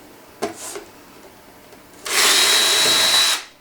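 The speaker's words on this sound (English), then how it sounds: "And I'll drill my hole" A power drill bores a hole through plywood in a scroll-saw workshop, a single loud high-pitched whine lasting just over a second after a few brief handling knocks and a short pause.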